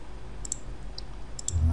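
Mouse clicks in 3ds Max, a few sharp clicks spaced about a second apart, moderately close over a low background hum.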